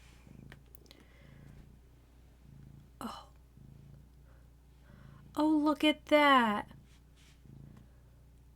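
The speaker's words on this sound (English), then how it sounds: "She's allowed to purr. Purr. So you'll probably hear her purr." A domestic cat purrs steadily on its owner's lap, a soft, close, rhythmic low rumble pulsing about once a second, with a short burst of louder tonal vocal sound midway and a brief spoken remark.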